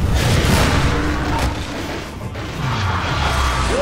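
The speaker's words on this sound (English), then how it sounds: "Put some rockets into him" Rockets explode in Half-Life 2 in a continuous roar of heavy, rumbling booms and crashing debris, loud and close, with a rising whine emerging at the very end.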